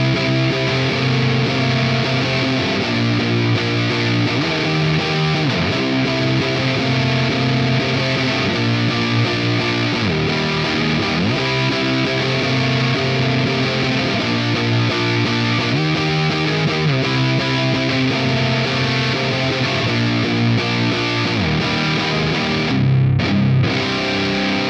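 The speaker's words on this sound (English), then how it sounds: "the main tone I would find myself adding reverb over is something pretty fuzzy sounding" Fuzzy, distorted electric guitar played through a UAFX Heavenly Plate reverb pedal, sustained chords changing every few seconds with a steady, loud wash of plate reverb and no talking.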